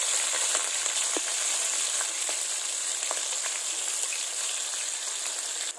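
Onion, green chilies and cumin frying in oil in a pan for a South Indian fish curry give a steady, close hiss of sizzling, dotted with occasional small pops, with no voices.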